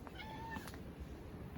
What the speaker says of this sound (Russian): Одни коты кругом.